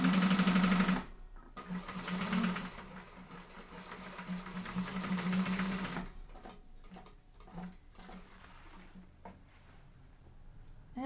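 A sewing machine stitches a Bomb Dot Com sling bag, a quiet, close mechanical whir that runs for several seconds, stops, then gives way to scattered soft ticks and clicks.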